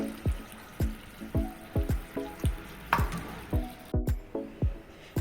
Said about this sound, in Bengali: এবারে পেস্তো সসটা মিশিয়ে দিচ্ছি।